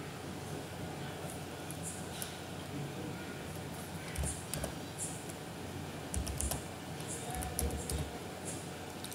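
Code being typed into Android Studio on a computer keyboard: soft, rapid, uneven keystroke clicks, close and fairly quiet, with a few heavier key presses standing out.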